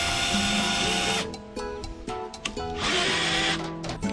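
A Bosch cordless drill whines and bogs down under load at both low and high speed, its motor pitch dropping and surging repeatedly as it labors, close and continuous with no talking.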